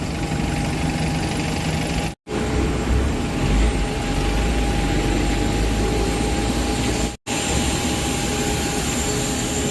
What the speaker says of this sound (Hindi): इथियोपियन एअरलाइन्स हे मोठं विमान